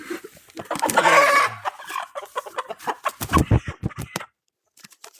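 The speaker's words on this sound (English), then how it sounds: "So these guys are Brahma roosters we just got today." Brahma roosters being handled during farm chores, giving a run of loud clucks and squawks, a dense burst early on and then choppy repeated calls that stop abruptly near the end.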